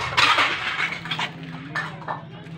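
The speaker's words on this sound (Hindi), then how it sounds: "तो मैं अब ले रही हूँ बर्तन" Metal utensils and dishes clink and rattle as they are handled and picked up in a shop selling cookware, several close, bright clatters in quick succession over a steady low hum.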